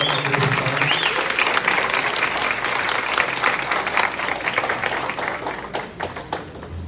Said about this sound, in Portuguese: E só queria pedir uma salva de palmas para elas